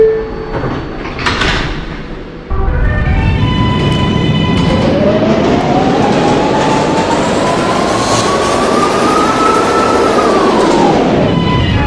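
A Bronx-bound 6 local subway train accelerating out of a station: a rising electric motor whine climbs and holds over a loud, steady rumble of wheels, after a quieter opening with door sounds.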